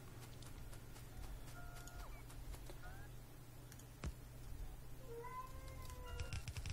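A house cat meows several short times in a quiet room, faint and fairly close, alongside soft background noise and a single sharp knock.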